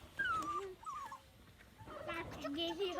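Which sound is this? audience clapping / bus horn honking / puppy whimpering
puppy whimpering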